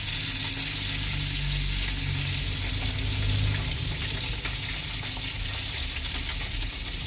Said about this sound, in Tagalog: At ito naman yung na kulo-kulo na